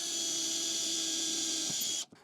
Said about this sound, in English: now quite easily you can pre-drill a hole in it